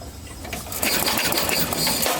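Toro 826 snowblower with a Briggs & Stratton 8hp engine pulled over by its starter after two years unused: a loud, close mechanical whir and rasp lasting about two seconds, with no firing.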